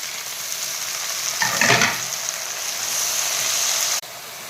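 Garlic, green chillies and tomatoes fry in a pan with a continuous hissing sizzle, swelling into a louder spatter and stirring scrape midway before settling back to a steady crackle.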